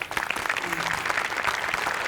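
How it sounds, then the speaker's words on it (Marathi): Studio audience applause on a Marathi comedy show, a short burst of dense, lively clapping that stays even from start to end. "दोघांसाठी टाळ्या"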